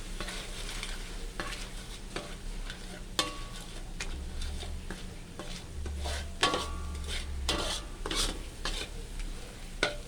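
Chili paste and coconut milk stir-fry together in hot oil for a pineapple and mussel curry, making a continuous sizzle punctuated by frequent crisp spatula scrapes against the pan, with no speech.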